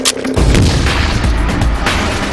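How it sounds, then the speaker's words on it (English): Claymore mine detonation, a sudden loud, deep boom that hits hard and then rolls into a sustained low rumbling decay, alone with no voices. "Claymore mine."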